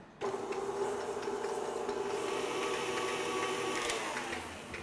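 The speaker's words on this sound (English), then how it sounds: "We're gonna put that in the mixer, let it go for about 2 to 3 minutes until it's beautiful and fluffy" A stand mixer creams butter and granulated sugar at medium-high speed, giving a steady, faint whirring and rubbing hum that starts abruptly and runs evenly, easing slightly near the end.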